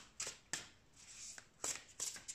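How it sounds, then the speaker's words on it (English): An oracle card deck shuffled in a few short, crisp riffles and flicks, close up and soft, with brief pauses between bursts and no voices. "I'm gonna shuffle and bring out 3 cards here."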